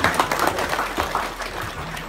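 Guests at a Catholic church blessing ceremony applaud after a plaque signing, a moderately loud wash of clapping from a gathered crowd that gradually thins and fades over two seconds.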